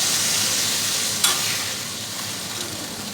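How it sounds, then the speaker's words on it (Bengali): Oil in a hot pan bursts into a loud, bright sizzle as water goes in, with a faint clink of a utensil partway through as the hiss gradually eases. "এবার জল দিয়ে দেবো।"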